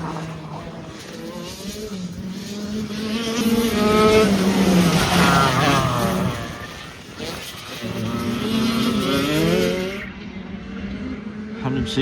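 Race cars pass a corner at the NTK racetrack, their engines swelling loud as each car approaches and dropping away as it goes by, one pass after another with no break.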